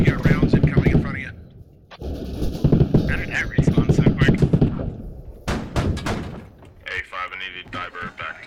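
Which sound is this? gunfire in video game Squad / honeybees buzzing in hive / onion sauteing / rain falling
gunfire in video game Squad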